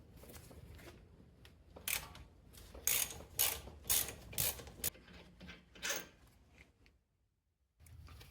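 Ratchet wrench clicking away at the 13mm brake caliper bolts on an Audi A6 C7 with the wheel off, bursts of sharp mechanical ratcheting at close range, pausing briefly near the end before resuming.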